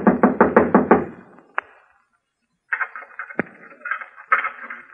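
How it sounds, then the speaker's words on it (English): Radio drama sound effect of a knock on an office door: a quick series of about six firm raps, a lone single knock, then a pause before scraping and rattling as someone works at the lock. "Someone knocked."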